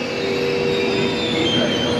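Italian trains running near Pisa in Tuscany, a loud close rumble of rail cars with steady wheel noise and a faint squeal, continuous throughout with no talk.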